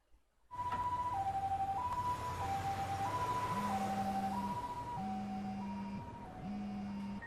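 An ambulance siren from the video game Lost Judgment wails in a loud two-tone pattern that alternates steadily. A lower engine-like drone runs underneath and rises and falls with it.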